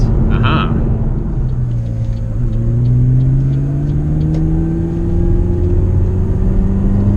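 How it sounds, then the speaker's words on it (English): A McLaren 570GT engine hums steadily and then rises in pitch as the car drops a gear and accelerates, heard from inside the car with constant road rumble. "when you put your foot down and accelerate, it will drop a gear."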